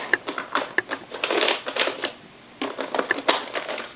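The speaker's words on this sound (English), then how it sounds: "So just press all your folds so you know where to fold them" Newspaper being pressed and creased into folds for a gift bag gives close, crisp crinkling and rapid tapping crackles in bursts, with a short quiet pause midway.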